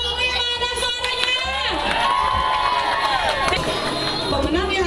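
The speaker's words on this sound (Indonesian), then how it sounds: "tepuk tangan untuk tim yang Muni, mana suaranya?" Fans at a meet-and-greet cheer and shout loudly for a team, with excited screams and children's voices rising over a busy crowd and chatter throughout.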